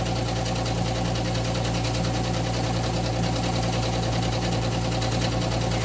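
A Melco embroidery machine runs on a sweatshirt, a loud, steady mechanical whir with fast even needle chatter and a constant low hum, close and uninterrupted.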